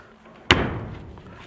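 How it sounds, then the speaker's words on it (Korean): A smart top box lid on a 2022 Honda Gold Wing 1800 DCT motorcycle shuts with a single solid thump and brief rattle, like a car trunk closing, heard nearby with no talk. "마치 자동차 트렁크 문을 닫는 듯한 그런 소리가 나네요."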